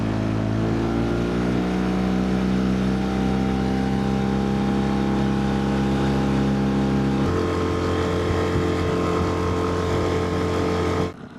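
Engine of a small fishing boat runs steadily with a droning hum, shifts to a lower pitch partway through, then cuts off abruptly at the end.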